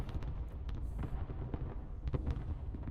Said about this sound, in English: Let's enjoy the fireworks here.